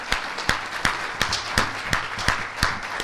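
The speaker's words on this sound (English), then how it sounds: "Let's give the Lord a hand clap of praise." A church congregation claps hands in praise, sharp regular claps in a steady rhythm of about three per second, loud and close, with no talking.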